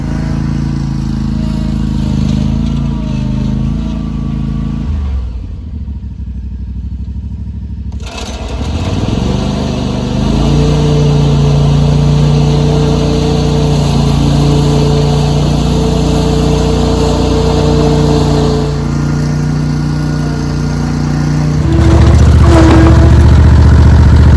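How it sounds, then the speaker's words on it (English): A lawn mower engine runs loudly and continuously nearby while cutting lucerne, droning with a brief dip partway through and rising louder toward the end. "So I'll give this mower a bit of a go, see how it goes."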